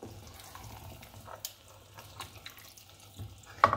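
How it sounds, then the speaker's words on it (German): Tap water trickles into a half-filled tomato can during lasagna preparation, a faint, uneven splashing and gurgling over quiet kitchen background, ending with a brief louder clatter. "Und zwar nehme ich jetzt hier die Dose und fülle die zur Hälfte mit Wasser."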